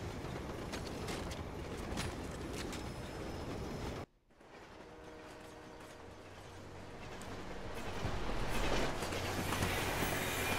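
A train in the video game Lost Planet 2 rumbles and clatters along with metallic squeals and clanks, cuts abruptly to a brief hush, then resumes as a lower rolling rumble that swells louder toward the end.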